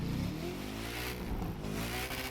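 Koenigsegg Jesko hypercar in The Crew 2 racing game, engine roaring loud and steady with a revving, rising exhaust note that holds throughout without a break.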